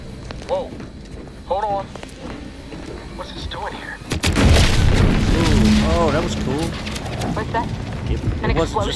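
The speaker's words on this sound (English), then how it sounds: "just an explosion that pushed us back Abara, and everything" A sudden loud explosion in The Outer Worlds 2 booms and rumbles into a sustained roar with debris noise, preceded by quieter game sounds and talk, and voices continuing over the aftermath.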